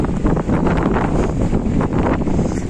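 Strong wind in Cape Verde buffets the microphone in a loud, continuous rumbling roar, with gusts surging and easing throughout and no voices.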